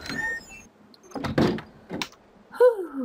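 A door opens in The Long Dark video game: a few clunky mechanical knocks and scrapes, then a rising creak near the end, close and fairly clear against a quiet background.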